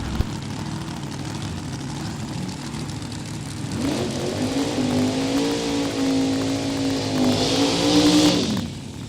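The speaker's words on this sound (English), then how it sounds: "Going to be racing Randy Smith in that fast dragster out of Kansas City." A fast dragster at Mo-Kan Dragway rises from a distant rumble into a loud, climbing engine roar with a rising pitch, then cuts off abruptly near the end.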